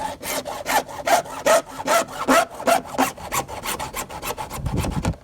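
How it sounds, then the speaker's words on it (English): A hacksaw cuts through a privacy fence panel in rapid, regular back-and-forth strokes, close and loud, the rasping rhythm continuing alone without any talk. "Then you get your hacksaw"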